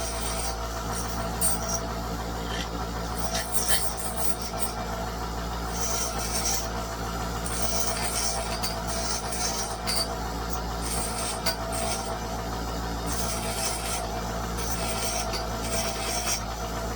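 A metal crank is deburred with a hand file, giving steady rhythmic rasping strokes close up over a constant low hum, with no talk.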